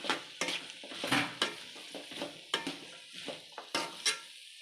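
Capsicum and cabbage being stir-fried in a pan for fried rice, with a steady sizzle broken by repeated scraping and clinking strokes of a spatula, close up.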